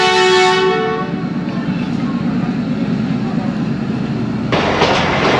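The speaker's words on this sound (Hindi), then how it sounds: "ज़बरदस्त किस्म के ZCU-20 के डिपार्चर विसल" A ZCU-20 diesel locomotive on the Ravi Express sounds one loud, sustained departure whistle at Kamalia railway station, followed by the steady low rumble and clatter of the train rolling away, with a sharper burst of noise near the end.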